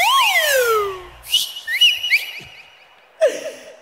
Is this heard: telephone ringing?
no